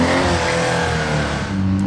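Car engine revving hard on a cold start outside the casino in Monaco, a loud, steady mid-range roar that holds near and constant for about two seconds with no talk over it.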